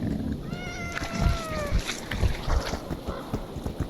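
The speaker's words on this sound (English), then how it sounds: "The cats are hunting with the boars?" Cats in the video game Stalker Anthology give several drawn-out, rising meows close by, over game ambience and thumping impacts.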